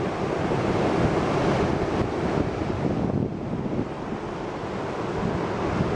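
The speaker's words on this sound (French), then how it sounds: "il y a quand même des vagues" Ocean surf rolls onto a beach in Vietnam in a loud, continuous wash, with wind buffeting the microphone throughout and no voices.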